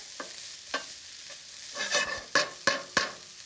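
Vegetables stirred in a hot pan give a faint background sizzle broken by a series of sharp scraping strokes of a utensil, the last few louder and closer together.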